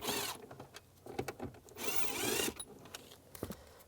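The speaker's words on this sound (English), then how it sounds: "Take these screws out, use a Phillips head screwdriver." A hand-turned Phillips head screwdriver backs screws out of an interior dash panel on a 2002-2009 Chevrolet Trailblazer, giving several close, rough scraping and creaking bursts separated by short pauses.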